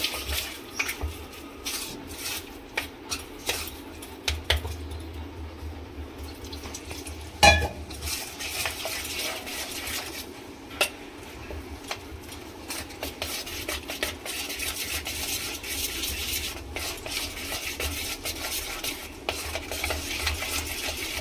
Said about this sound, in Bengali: সব কিছুকে একসাথে একটু ফেটিয়ে নিলাম।